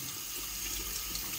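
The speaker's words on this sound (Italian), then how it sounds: "Quindi acqua ridotta e iniziate a bagnare prima la parte del bracciale" Tap water runs at a reduced flow over a watch bracelet being rinsed after a day at the sea, giving a steady, soft splashing hiss close by with no talk.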